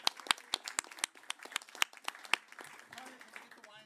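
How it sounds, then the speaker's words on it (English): Audience applause for a panel at an environmental law colloquium, a brief burst of scattered, fairly faint clapping that thins out toward the end. "maybe a little clap to our whole panel and to all of you for bearing with us."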